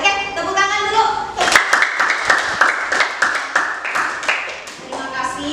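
Junior high school students in a classroom clapping their hands together, a quick burst of sharp, close claps in a loose rhythm that fades out, with a teacher's voice just before and after.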